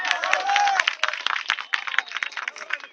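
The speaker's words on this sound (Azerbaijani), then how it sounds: "Alqışlar gəlsin maksada." A crowd claps for the winning horse's owner at a prize presentation, a dense, fairly close burst of applause that goes on the whole time with uneven, scattered claps.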